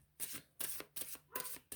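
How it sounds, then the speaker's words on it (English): A deck of cards shuffled in four quick riffles, each a short crisp burst of ruffling, close and quiet with brief gaps between them. "Okay, one more shuffle."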